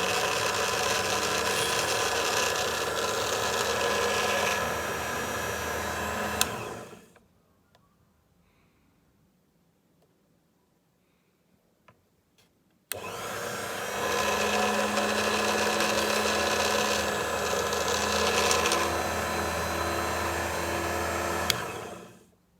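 Electric drill with a bit sized for 1.2 mm rivets boring holes in a branch hinge, a steady close whirring run of about seven seconds, a quiet pause, then a second equally long loud burst.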